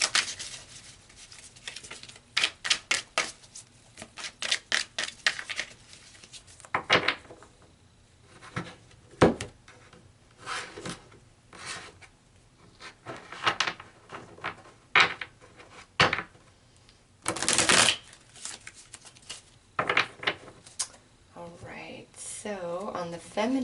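Tarot cards being shuffled and pulled, with repeated crisp riffling and slapping bursts, close up, alternating with quieter pauses.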